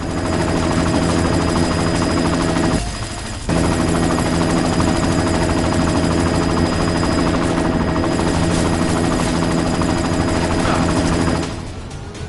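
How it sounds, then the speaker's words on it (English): A helicopter in Deus Ex: Mankind Divided drones loud and close, a dense, continuous rotor roar that cuts out briefly and then returns, with no talk over it. "You've got to stop that chopper."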